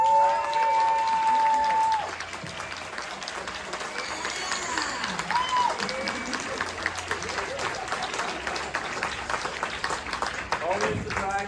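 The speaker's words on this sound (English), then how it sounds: "I know we already did applause, but we got another cast member. Can we do it again?" Sustained audience applause and crowd noise at a Hellraiser convention panel at Days of the Dead Chicago, a dense steady roar of clapping throughout, with a voice briefly audible at the start.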